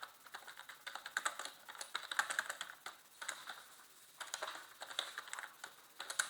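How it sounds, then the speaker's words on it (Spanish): Computer keyboard typing into a spreadsheet, quick close clicky keystrokes in irregular bursts with brief pauses between them. "y nos ponemos a teclear"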